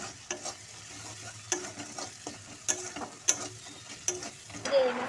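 Onions frying in a pan for a chicken dish are stirred with a spatula, giving a faint, soft sizzle broken by irregular scraping clicks and knocks against the pan.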